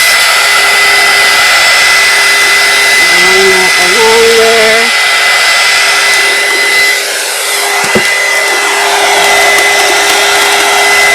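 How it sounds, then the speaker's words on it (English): A heat gun blows a steady, loud stream of hot air that hums continuously throughout, with a person speaking briefly over it partway through. "take your heat gun or your blow dryer and just"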